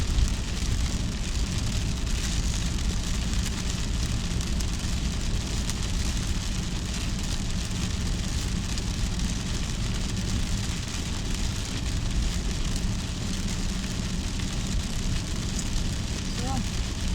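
Heavy rain pours down in a dense, unbroken hiss, loud and even throughout with no letup.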